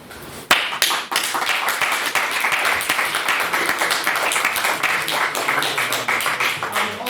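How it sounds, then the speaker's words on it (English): Audience applause at a university-style debate on the breakup of the United Kingdom, starting with a sharp burst of close claps and settling into steady, loud clapping from a room full of people. "Round of applause."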